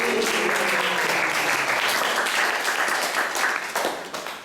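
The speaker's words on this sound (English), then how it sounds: "Let's give it an applause for him." An audience applauds during a Sunday class at a Hare Krishna temple in Atlanta, with steady dense clapping throughout that tapers off at the end, fairly close and with no voices over it.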